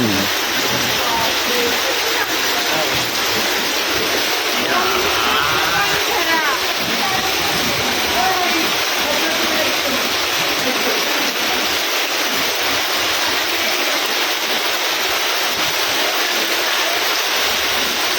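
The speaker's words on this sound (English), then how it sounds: "Heavy rain in Mumbai." Dense, steady roar of heavy rain pouring down in Mumbai, loud and continuous with no letup, a faint voice briefly under the downpour.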